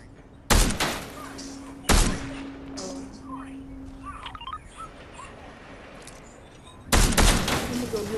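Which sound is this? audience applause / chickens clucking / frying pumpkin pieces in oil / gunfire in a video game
gunfire in a video game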